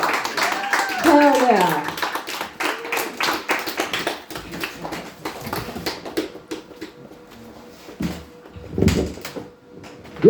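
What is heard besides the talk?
audience applause for comedian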